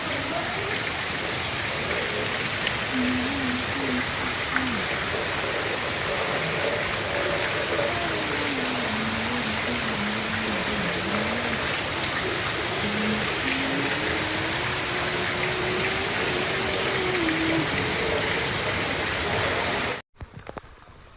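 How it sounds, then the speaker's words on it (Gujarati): Heavy rain pours over a village in a dense, steady hiss that runs unbroken for about twenty seconds under a faint wavering whine, then cuts off abruptly. "કેટલો વરસાદ છે"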